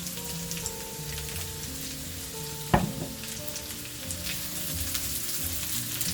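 Carrots fry in a pan for fried rice, giving a steady close sizzle and crackle, with one sharp metallic clatter partway through and no voices.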